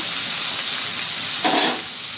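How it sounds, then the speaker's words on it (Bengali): Bitter gourd slices frying in hot oil with salt and turmeric, a steady loud sizzle and hiss throughout with a brief stirring swell near the end. "একটু লাল লাল করেই ভাজবো উচ্ছেটা।"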